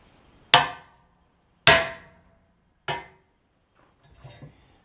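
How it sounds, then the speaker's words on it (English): Chisel hammered during a Harbor Freight tubing roller motorizing job: three sharp metallic strikes about a second apart, loud and close, followed by a softer cluster of light knocks, with no talking. "let's give the chisel thing a try and see how much noise we're going to make."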